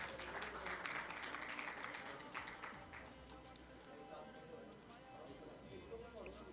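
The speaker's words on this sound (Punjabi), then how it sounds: "ਢੇਰ ਸਾਰੀਆਂ ਤਾਲੀਆਂ ਇਸਲਾਮੀਆ ਕਾਲਜ" An audience at an international Punjabi conference in Lahore claps for Government Islamia College, a dense burst of applause that gradually thins and fades, with voices underneath.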